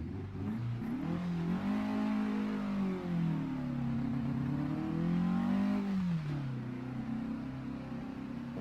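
Porsche 718 RS 60 race car in Assetto Corsa at the Red Bull Ring GP circuit, its engine revving up and pulling away in first gear of a five-speed manual, a steady close rising and falling drone with no talk.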